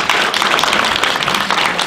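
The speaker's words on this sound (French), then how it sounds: "On va d'abord applaudir notre candidat." Loud, close crowd applause for a Renaissance party candidate at a French political event on Europe, dense rapid clapping from many hands with a rhythmic, pulsing texture throughout.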